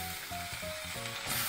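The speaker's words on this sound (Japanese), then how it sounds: "じゃあスペアリブも焼いていきましょう。" Spare ribs sear in a hot pan, giving a steady close crackling sizzle throughout, with faint clinks and stirring noises over it.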